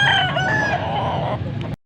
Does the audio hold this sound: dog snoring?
no